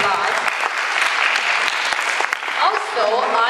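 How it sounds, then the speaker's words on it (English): Loud, dense applause from a school audience during a talk about Chinese language classes, sustained clapping with a few voices and cheers mixed in near the end. "let's give them a round of applause."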